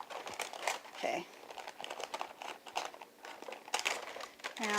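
Parchment paper crinkles and rustles as it is handled in a home kitchen while pizza dough is laid out on it, giving a run of soft crackling bursts close by, with some talk mixed in.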